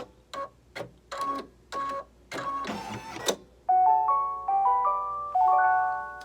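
An embroidery machine stitches with metallic thread in short mechanical bursts, then a bright electronic melody of beeps plays as it finishes.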